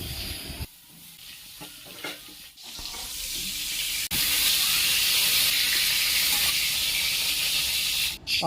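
Pointed gourd (potol) pieces frying in hot oil, giving a loud, sustained sizzling hiss that swells and stays strong. Scattered stirring and clinks come early on, and a sharp knock lands near the end.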